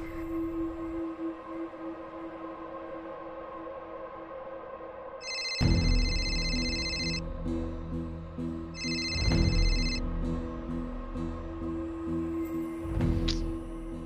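A telephone rings unanswered in a TV drama scene, the electronic ring tone repeating in short bursts over about eight seconds after a quieter stretch with a low musical drone.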